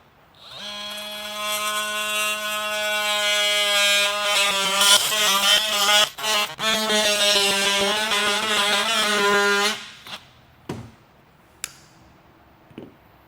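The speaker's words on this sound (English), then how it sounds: "I'm going to use my weapon of choice, which is a little oscillating tool" A small oscillating multi-tool cuts through a plastic part of a 3rd Gen Toyota Tundra front bumper, giving a steady high buzzing whine for about nine seconds, then stopping, followed by a few short knocks.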